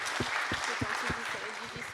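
Audience applause at a trades competition event, a dense wash of clapping running the full length, with a voice speaking over it.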